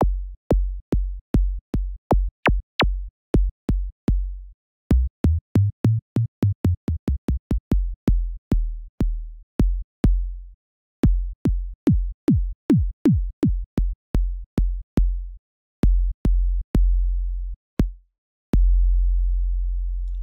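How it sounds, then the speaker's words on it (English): A synthesized 808-style kick drum comes from the FL Studio Fruit Kick plugin, played at C5. Around thirty-five deep booming kicks with sharp clicky attacks fall in an uneven, changing rhythm, and the last note rings out longer. No one speaks. "So you can see there we've got a very 808-esque sound."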